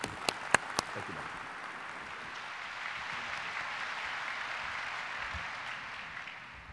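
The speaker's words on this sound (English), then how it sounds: "join me in a big round of applause as we welcome the board president of our Harbor Commission, Doug Drummond" Soft, sustained applause from an audience at a port event welcoming the Harbor Commission board president, heard at a distance after a few sharp claps close by.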